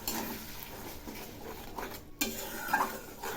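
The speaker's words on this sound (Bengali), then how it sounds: "এখন এই মশলাগুলো খুব ভালো করে কষিয়ে নেব" Tomato and onion paste masala sautéing in a pan: a dense, continuous sizzle with rhythmic stirring scrapes and a few metallic spoon-on-pan knocks, close and fairly loud.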